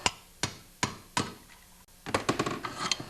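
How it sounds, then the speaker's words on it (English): A pin on a Tecumseh recoil pull starter is driven out with hammer blows against the hard top of a vise, sounding as a few sharp metallic strikes spaced apart, then a quicker burst of lighter taps, close and alone. "I'm actually going to set it on top of my vise here because it's a much harder surface to pound the pin out."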